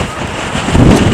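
Strong coastal wind buffets the microphone in a loud, continuous roar that swells and grows heavier toward the end, with no other sounds standing out.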